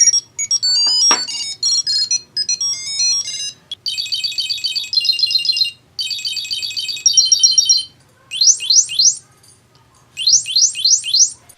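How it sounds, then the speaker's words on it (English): Three different ringtones from a Cube Pro Bluetooth tracker play one after another, starting with a chirpy melodic tune, then dense warbling trills, then rapid sweeping electronic chirps in short bursts, all loud and close with no talking. "And of course you can change the ringtone if you choose to."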